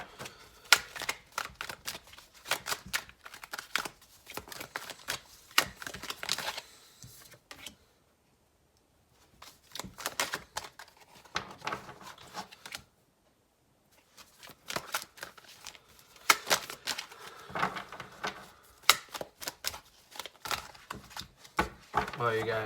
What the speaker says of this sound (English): Just gonna flip these cards that flipped over in the deck.